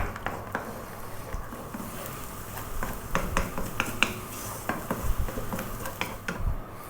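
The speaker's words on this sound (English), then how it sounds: "we're just going to scramble these until they're fairly well done" Eggs seasoned with black pepper being scrambled in a pan, a spatula scraping and tapping the metal in an irregular rhythm of light clicks over a soft, steady sizzle.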